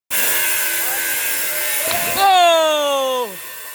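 A small flying drone gives off a steady, close motor whine whose pitch glides upward, holds, then drops as the aircraft manoeuvres, loud over faint background hiss.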